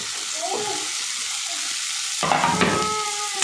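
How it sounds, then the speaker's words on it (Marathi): Onion and tomato sauté in a pan for a soybean and pea bhaji, giving a continuous close sizzle, with a louder burst of frying and stirring clatter partway through and no speech. "आता हे चांगलं परतून घेते."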